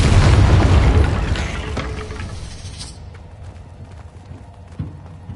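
An Incendio fire spell cast in the video game Hogwarts Legacy, a loud whooshing, crackling burst of flame that surges at the start and then fades away, followed by a faint thump.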